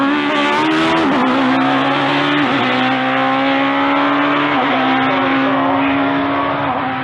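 A hillclimb race car at Gurston Down roars loud and close as it accelerates up the course, its engine pitch climbing, dipping at each gear change, then rising again in one sustained run.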